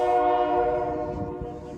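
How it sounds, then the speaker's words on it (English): A Dover & Delaware River Railroad Toys for Tots train passes close by, its horn blaring in one loud, steady, sustained blast over a low rumble of rail noise. "Tours for Tots trains coming to town."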